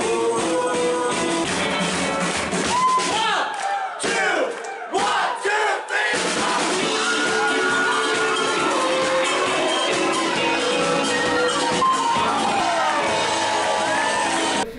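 A concert crowd at a show in Berlin cheers, whoops and yells loudly and continuously, with a brief lull before the roar swells again.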